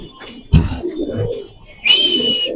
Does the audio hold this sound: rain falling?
no